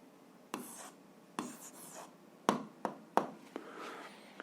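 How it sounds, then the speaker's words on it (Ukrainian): Pen writing on paper during an algebra lesson, heard as a handful of separate quick scratchy strokes with short pauses between them, close and fairly quiet against a near-silent room. "записуємо відповідь, пишемо відповідь"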